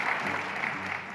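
People in a Paris city council chamber applaud after a vote on air pollution measures, a brief, dense burst of many hands clapping, fairly close and continuous, with a faint voice underneath.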